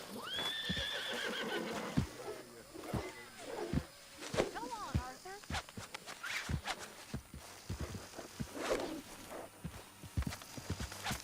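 A horse in Red Dead Redemption 2 gives a loud whinny at the start, then hooves clip-clop irregularly with scattered thumps and faint voices mixed in.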